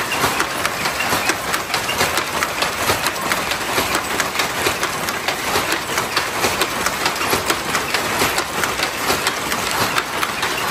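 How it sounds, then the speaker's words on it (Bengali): Machine looms weave traditional Tangail saree in a workshop, producing a dense, continuous rattling clatter with fast regular beats that fill the space without pause. "এখন এভাবে মেশিনে তৈরি করা হচ্ছে টাঙ্গাইলের ঐতিহ্যবাহী শাড়িগুলো"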